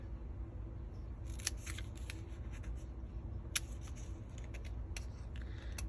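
Scissors make repeated short, crisp snips while straight-cutting a small paper house craft, a series of sharp clicks scattered over a quiet room hum.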